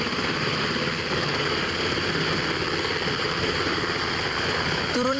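Military helicopter flying over a cargo ship at sea during a marine boarding, a steady, dense rotor and engine roar holding at constant loudness throughout with no speech.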